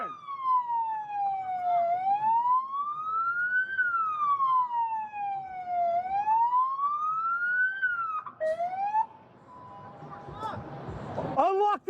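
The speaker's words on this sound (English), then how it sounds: "Turn off my siren! Siren!" A police car siren wails loud and near, sweeping up and down slowly, then switches to a faster yelp before cutting out into noise and shouting.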